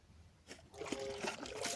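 Water gushing up from a pump at a village home, a faint, steady trickling and splashing flow that begins softly and grows fuller, continuing without talk.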